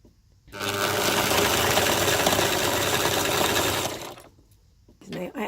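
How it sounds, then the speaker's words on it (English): A vintage sewing machine runs a zigzag stitch onto decorative elastic with a steady mechanical whirr for about three seconds, close and fairly loud, then stops. Faint handling noises follow. "I am using a vintage sewing machine, and it can be a little bit temperamental"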